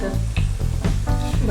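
Cumin and coriander seeds hit hot oil in a pan and sizzle and crackle loudly up close, with a few rhythmic stirring scrapes through the short burst.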